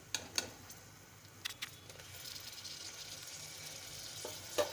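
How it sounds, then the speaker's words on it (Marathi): Tomatoes sautéing in a pan with ginger-garlic paste for green moong usal, a soft steady sizzle that builds slightly, with a few sharp clinks of a spoon against the pan near the start and end. "टोमॅटो देखील आपल्याला एक दोन मिनिट छान असा मऊ होईपर्यंत परतवून घ्यायचा आहे"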